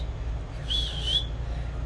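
A single short, clear whistle rises and holds for about half a second over a low background hum, without speech.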